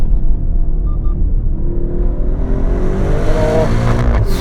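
Maserati Grecale Trofeo SUV accelerating hard along a winding road, a steady loud engine rumble with rising revs and a climbing tone toward the end, heard continuously without talk.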